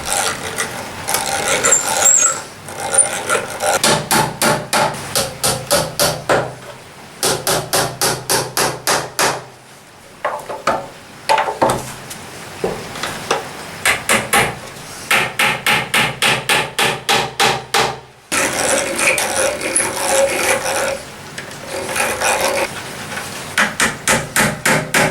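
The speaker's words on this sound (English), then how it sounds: "Drill a couple of holes, nail it together" Steady hammer blows drive nails into a wooden Japanese toolbox, coming in quick rhythmic bursts of sharp close knocks separated by short pauses, loud with no talking.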